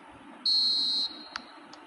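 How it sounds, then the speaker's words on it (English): A referee's whistle signals half-time in the eFootball 2026 football video game: one clear, sustained, high-pitched blast of about half a second, then a tiny faint chirp over quiet crowd ambience. "There's the whistle for half-time."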